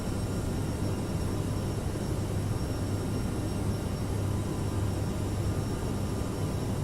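CRJ1000 airliner climbing just after takeoff, a steady, even roar of engine and airflow with a low hum, constant throughout with no talk.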